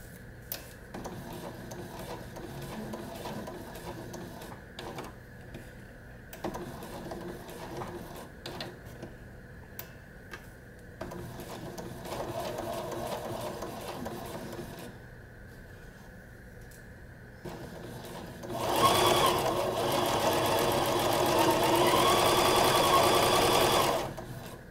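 Sewing machine stitching a Christmas stocking, with repeated bursts of fast mechanical whirring and ticking separated by short pauses, and the final run louder and more intense.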